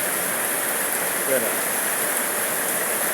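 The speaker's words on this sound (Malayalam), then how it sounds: "ശക്തമായ മഴയാണ്" Heavy rain pours down in a steady, dense hiss, loud and continuous, with no pauses and nothing else clearly heard.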